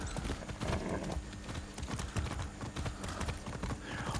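Hooves of a horse painted as a zebra in the Far Cry 6 video game, ridden at a steady clip-clop over continuous game ambience, with a brief whinny-like sound.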